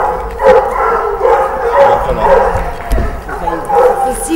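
Several dogs bark and yip in short bursts throughout, with a voice speaking French between and over them, the barks fairly close and loud during an outdoor hunting scene.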